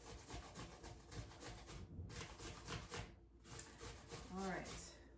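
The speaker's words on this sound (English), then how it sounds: "So when I push the apple down, these are sharp, so it's pushing little pieces of the apple through" An apple being pushed down across a sharp grater, producing steady rasping scrapes in repeated strokes, fairly quiet and close, with a brief faint vocal sound near the end.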